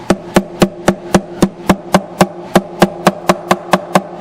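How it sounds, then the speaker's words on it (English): A plastic hammer taps a fret into a Martin guitar fretboard: about sixteen sharp, evenly spaced knocks in quick succession, close and loud, with no talking. "There's a plastic hammer."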